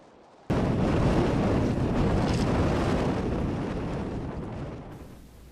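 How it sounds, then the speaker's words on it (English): Strong wind in cold northern Illinois weather blasts into the microphone, starting abruptly with a loud, full rumbling roar that holds steady and then slowly eases off, with no talking. "Nature is truly showing its strength with these winds"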